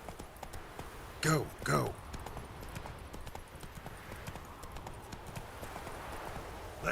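Roach the horse gallops in The Witcher 3, a steady patter of hoofbeats running beneath two short, loud shouts from a man urging the horse on.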